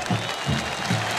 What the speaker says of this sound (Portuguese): sucesso com os aplausos da torcida, merecidos aplausos